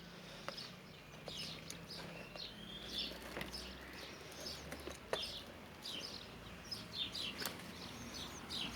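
Small birds chirp and tweet intermittently in an open-air garden, scattered short calls at moderate distance over quiet background hiss.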